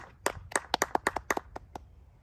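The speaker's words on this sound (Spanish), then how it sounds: "Un aplauso." A handful of people clap at the close of a podcast episode, roughly a dozen distinct, sharp claps in a loose, uneven rhythm, fairly quiet and close, fading toward the end.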